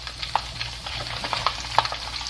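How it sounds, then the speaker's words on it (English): Meatballs sizzle steadily in a hot pan while being stirred and moved into sauce, with a broad frying hiss and occasional sharp scraping clicks from the utensil, close and fairly loud, without speech. "I'm going to transfer them into the sauce, and they're going to cook for 15 minutes"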